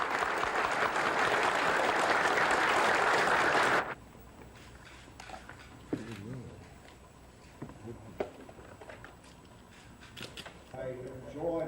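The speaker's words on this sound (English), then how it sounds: "Judge Patterson deserves a round of applause." A dense, loud round of applause for Judge Patterson fills the first few seconds, then stops abruptly, leaving a quiet room with scattered knocks and a voice speaking.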